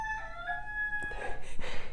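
A homestead rooster crows once, a drawn-out, strained call close by, followed by brief rustling noise with no talking.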